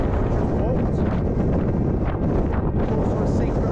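Strong wind on the fell Beda Fell buffets the microphone with a loud, continuous roar that gusts and swells throughout.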